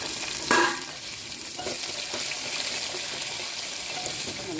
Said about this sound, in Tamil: வெங்காயம் பூண்டு போட்டு நல்லா வதக்கணும்.